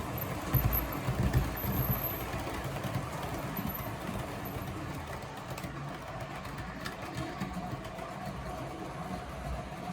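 A Heljan Class 17 Clayton model locomotive runs along track pulling a load, its small motor giving a continuous whirring hum with light rail clatter, steady and moderately close throughout.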